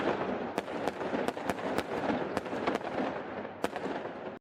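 Fireworks for a Fourth of July show burst in a rapid, irregular string of sharp cracks and pops over a continuous crackling rumble, fairly loud and steady throughout with no voices.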